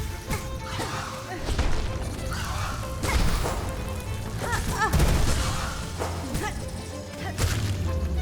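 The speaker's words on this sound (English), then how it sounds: "the big old explosion on the screen I can't barely see" A big on-screen explosion in the video game Silksong: dense crashing, whooshing and thudding game effects piling up continuously at a steady, fairly loud level.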